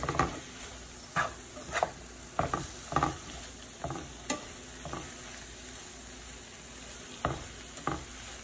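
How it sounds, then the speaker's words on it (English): Shrimp and vegetables stir-frying in a home kitchen. A constant soft sizzle runs under repeated sharp spatula scrapes and clatters at an uneven rhythm, close by and with no voices. "The vegetables are all sauteed and looking good."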